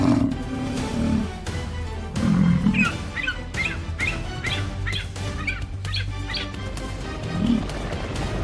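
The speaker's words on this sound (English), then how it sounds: "From afar, sounds of other buffalo ring out." African buffalo herd calling from afar in the wild while a lion confronts buffalo; low grunting calls rise and fade at a distance, with chirping birds scattered through the steady outdoor ambience.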